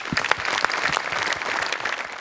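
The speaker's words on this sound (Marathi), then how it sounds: "सोनी मराठीसाठी जोरदार टाळ्या." Audience applause at a Marathi comedy show fills the moment, a dense, steady clatter of many hands clapping with no talking.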